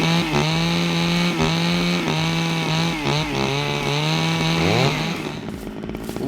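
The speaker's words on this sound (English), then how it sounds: "you get a chainsaw in your hands and you press R, you can start it, and you can also stop it as well" A chainsaw in the survival video game SCUM starts and runs steadily at a loud, buzzing idle with brief revving surges, then cuts off near the end.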